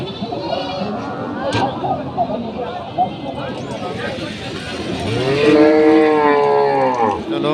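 A cow lows at a crowded cattle market in Nadia, West Bengal, with a long, drawn-out moo rising near the end over a steady buzz of people talking and haggling close by.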